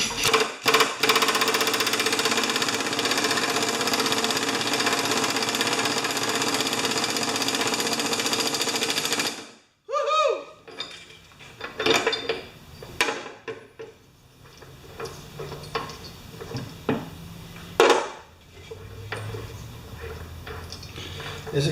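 Work on the starter clutch of a 1992 Champion push mower: a dense, steady mechanical rattle like a running tool fills the first nine seconds, then scattered clanks, taps and scrapes of hand tools on the mower follow.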